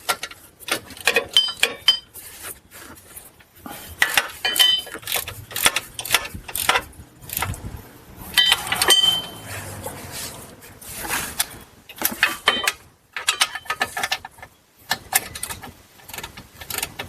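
A torque wrench ratchets in repeated bursts of rapid metallic clicks while tightening bolts on a GM 4T65-E transmission in a Buick Lucerne, Grand Prix or Impala to 55 foot-pounds. Short pauses and occasional clunks fall between the bursts.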